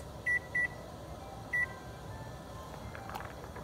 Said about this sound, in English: set my timer for 12 minutes